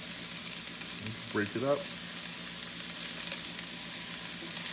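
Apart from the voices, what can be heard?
cabbage frying and sizzling in a pan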